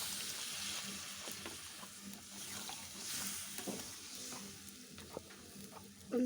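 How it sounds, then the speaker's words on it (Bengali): Meat curry cooked without potatoes being stirred in a pot: soft scraping and sizzling frying sounds, fairly faint and close, with a few sharper clinks of the spoon and no talking. "গোস্তটা নাড়াচাড়া দিচ্ছি, ঝোল দিয়ে দেবো"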